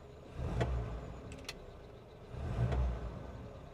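A quiet Hindustan Ambassador classic car engine idles steadily, swelling gently twice in low rumbling surges with faint clicks between.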